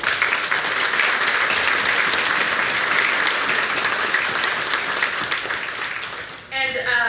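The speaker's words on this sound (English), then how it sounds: "So I really want to give a round of applause to those nominators." Loud, sustained applause from a large audience at a sports hall of fame induction banquet, clapping continuously for several seconds before fading, with a voice starting up at the very end.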